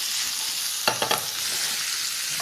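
Food fries in a pan with a steady, bright sizzle, broken by a few quick clattering stirs near the middle, close and fairly loud with no voices.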